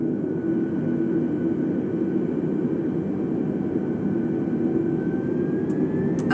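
Airbus A320 jet engines spooling up for takeoff in a flight simulator, a loud, steady roar with a rising turbine whine that climbs in pitch near the end, with no talk.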